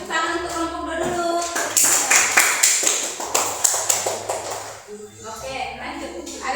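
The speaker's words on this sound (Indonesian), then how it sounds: "Beri tepuk tangan untuk kelompok dulu." A group applauds, with rapid, steady clapping rising and then fading over a few seconds, near and fairly loud, with a teacher's voice talking before and after.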